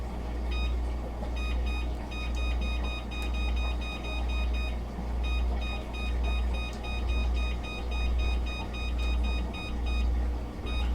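A kitchen oven timer beeps in repeated short bursts, grouped in rapid clusters that pause and resume, clear and moderately loud over a steady low hum while a quiche bakes.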